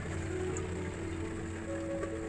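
Rain falls steadily in Ziro Valley, Arunachal Pradesh, as a soft, constant patter and hiss on surfaces, with a low hum underneath and no voices.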